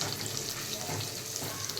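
Garlic frying in a pan in a home kitchen for a kingfish curry, a quiet continuous sizzle with light crackle, brief and low in level.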